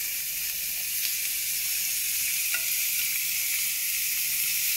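Butter melting in a pan just used to grill pork tenderloin gives a steady, even sizzle and hiss, with a faint tick or two and no talking.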